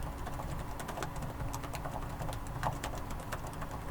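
Fingers type on the keyboard of a Dell Inspiron 14 5410 laptop, with deep-travel keys producing soft, quick, rhythmic clicks and taps, fairly faint and close, with no voices.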